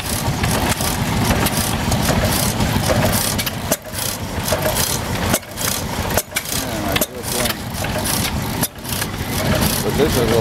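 An old hit-and-miss engine at an engine show in Plymouth, California, runs loud and close with a steady chugging drone and a few brief dropouts, while people talk over it throughout.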